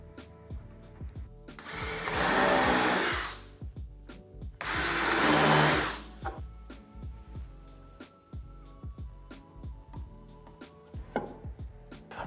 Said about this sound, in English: All right, so I've got the holes pre-drilled.